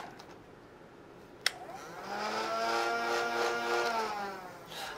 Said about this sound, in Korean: 다트존 제품들은 전반적으로 모터 소리가 비교적 조용한 편인 것 같아요.